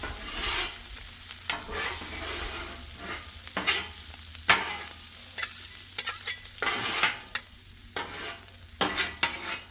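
Bacon fried rice sizzles steadily in a pan while a utensil stirs and scrapes it into vegetables in irregular bursts, close up, with no voices.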